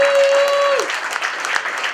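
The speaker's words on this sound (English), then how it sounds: "I think everybody give a big round of applause for Bernie for doing a great job." Dense applause from an audience, loud at first and easing slightly, with a brief tone fading out at the start.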